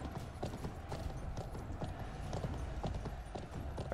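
Horse hooves clip-clopping in the video game Conqueror's Blade, a quick, steady rhythm of light hoofbeats with faint mechanical clatter, growing louder briefly at the end.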